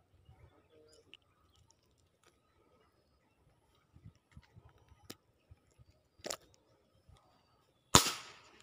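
A single sharp airgun shot cracks near the end during a fishing outing by water, preceded by faint ticks, small knocks and handling noises in an otherwise quiet outdoor setting.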